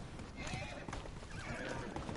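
A horse in the video game Ghost of Tsushima whinnies while its hooves clop steadily, close and loud, with a voice talking over the action.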